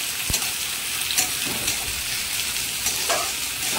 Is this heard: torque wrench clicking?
no